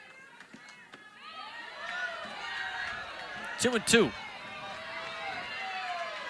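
A softball stadium crowd murmurs and calls out in a broad, steady din during a Texas A&M versus Ole Miss game, with a commentator talking over it and a brief louder shout rising midway.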